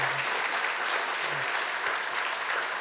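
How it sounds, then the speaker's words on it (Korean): A church congregation claps together during a Sunday service to welcome returning members, sustained, dense applause filling the room evenly from start to finish. "우리 큰 박수로 축복하며 환영하겠습니다"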